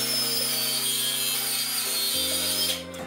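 A power saw cuts through a wooden slat acoustic panel of wood slats on felt. The motor whines loud and close, drops in pitch about two-thirds of the way through as the blade bites, then spins down at the end.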